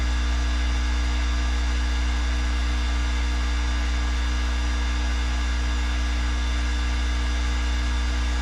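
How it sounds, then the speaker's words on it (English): A heat gun runs on high while fishing jigs are heated for painting, giving a steady loud electric hum and whirring drone, constant and close, with no talk. "I'm gonna try and talk a little louder so you guys can hear me over this heat gun."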